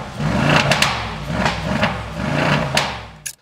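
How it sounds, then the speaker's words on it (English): A Mercedes Brabus 700 G-Wagon with a Brabus-tuned engine and valved exhaust in Sport Plus mode revs several times in quick bursts, loud and close, each blip rising and falling before a final short crackle. "Let's give this thing a rev and see what's up."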